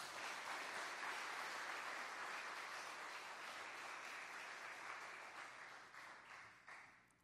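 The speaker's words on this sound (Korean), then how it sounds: "오실 때 큰 박수로 환영했으면 좋겠습니다." A church congregation at a Sunday afternoon service applauds to welcome a visiting missionary speaker, with steady, full clapping that holds for several seconds before tapering off at the end.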